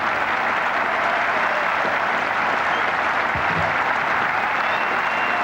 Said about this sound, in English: Suddenly the ground is filled with applause, as it always was.